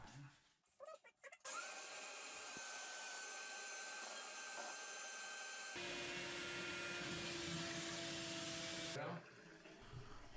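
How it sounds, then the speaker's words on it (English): A shop vac roars steadily at close range while vacuuming and blowing out a clogged sink drain, its motor pitch shifting partway through before the whine drops away near the end, after a few brief knocks at the start. "With the shop vac, I'm using the vacuum and the blowing capabilities of the vacuum to unclog the drain."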